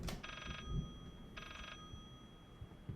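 A telephone in the Layers of Fear video game rings in two short bursts separated by a pause, thin and slightly distant over a quiet room tone, with no talking.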